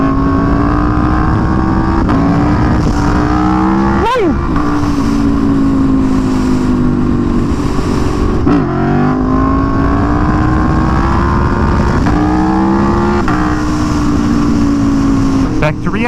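A motorcycle engine revs loudly and continuously in a virtual reality game while doing wheelies, the pitch rising and falling with throttle blips over sixteen seconds, close and dominant.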